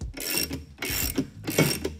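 A jack bolt is turned on a pipeline valve-spreading tool, giving three close bursts of ratcheting, clicking mechanical noise with brief gaps between them.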